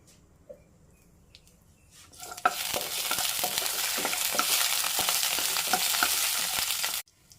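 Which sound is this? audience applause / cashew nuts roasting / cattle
cashew nuts roasting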